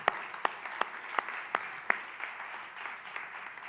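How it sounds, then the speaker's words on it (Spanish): A church congregation claps at a worship service: a scatter of sharp, distinct claps at a regular beat, then a softer patter of applause fading out, fairly quiet and with no talk. "Le podemos dar un aplauso al Señor"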